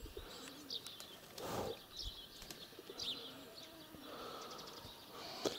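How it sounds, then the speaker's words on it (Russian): Soft, low cooing of domestic pigeons in a quiet, airy loft in the morning, with faint chirps and occasional light rustling, no talking. "Вот они, мои голуби."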